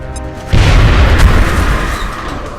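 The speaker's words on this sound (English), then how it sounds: "You know what's a good side dish to a rocket? Hand grenade. Frag out." A hand grenade explodes in the video game XCOM: a sudden loud, deep boom with a rumbling tail that fades slowly over about two seconds.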